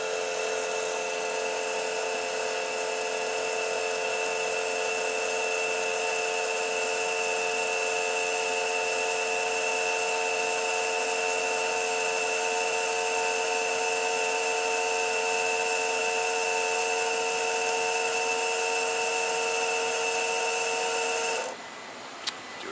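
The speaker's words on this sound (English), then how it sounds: "And then you'll hear the pump change." Steady electric pump whine from a Kenworth T680 truck during service with the NOx sensor being changed, a continuous tonal hum with strong harmonics running unchanged for about twenty seconds before cutting off near the end, with no talk.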